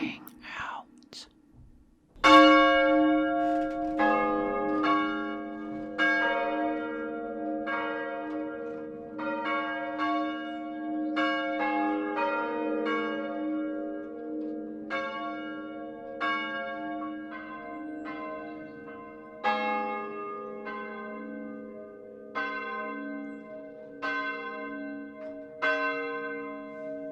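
A bell tolls repeatedly with long ringing overtones, strikes layering into a sustained resonant clang, after a brief quiet whisper-like opening.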